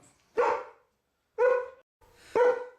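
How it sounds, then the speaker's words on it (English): A dog barks three times, loud and close, with clear pauses between each bark in an otherwise quiet room. "that's my boy's dog"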